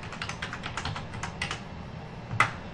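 Rapid keystrokes on a computer keyboard during CAD modelling, a quick run of light clicks followed by a pause and one sharper final tap, quiet and close with no talk.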